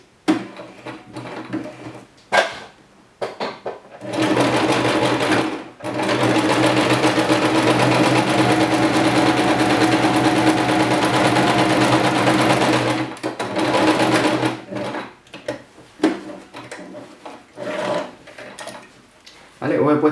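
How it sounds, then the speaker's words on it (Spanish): Domestic sewing machine zigzag stitching along the edges of two flamenco dress ruffles joined wrong sides together, a long steady whirring run bracketed by short start-stop bursts and handling noises, with no one talking. "Lo primero que tenemos que hacer es juntar los dos volantes por el revés de la tela. Y le vamos a pasar un zigzag por el borde."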